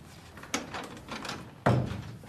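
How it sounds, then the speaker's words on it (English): A door pushed shut indoors in a police station office, a soft knock followed by a firmer thud as it closes, heard close with no talk over it. "Come in, shut the door."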